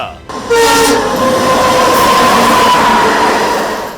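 A train passes close by a railway level crossing, its horn sounding a long steady blast over the loud rumble and clatter of the wagons.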